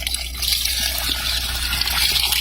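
Water is poured into a pot of chicken meat cooking over a gas burner, giving a continuous bright splashing gush, close and steady throughout.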